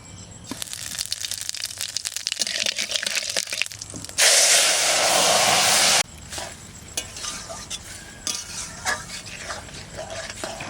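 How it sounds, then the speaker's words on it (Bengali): Cumin and radhuni seeds hit hot mustard oil in a tempering, producing a loud rushing sizzle burst in the middle, framed by softer pan clatter and stirring sounds. "ফোড়ন দেব সর্ষের তেল, জিরে আর রাঁধুনি"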